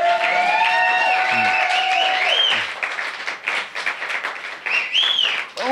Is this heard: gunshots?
no